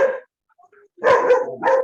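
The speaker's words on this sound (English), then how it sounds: "you don't stop that dog." A dog barks in three loud, close bursts with a short quiet gap after the first, heard alone with no talk over it.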